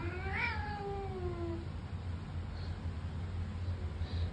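A cat meows alone in the first second and a half, a single rising-and-falling call, fairly close, followed by quiet room background.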